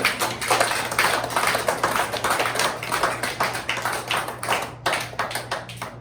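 A church congregation applauds together, a dense, steady patter of many hands clapping for about six seconds, close and fairly loud, with a low constant hum beneath and no voices.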